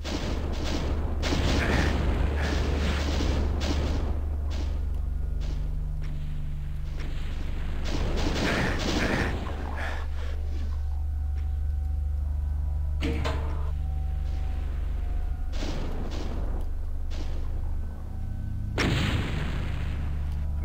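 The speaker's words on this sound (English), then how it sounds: "I saw a rocket fly by." Rocket whooshing past and exploding in a Doom-style first-person shooter map, with repeated heavy booms and blasts spaced through a steady low game ambience, loud and close.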